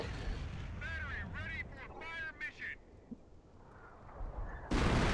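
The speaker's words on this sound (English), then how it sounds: "And that's precisely what artillery is for." Artillery fire rumbling in a Company of Heroes 1v1 match on the Angoville map, a continuous low booming bed with whistling tones early on and a sharp loud blast at the end.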